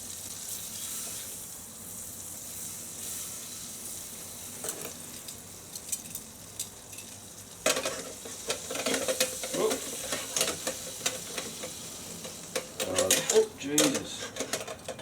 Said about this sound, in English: Sounds like it's working like a proper bloody fry pan.